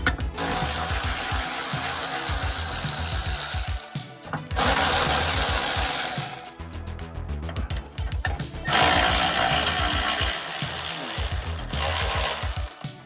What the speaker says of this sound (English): So let's get the bolts off and attach it.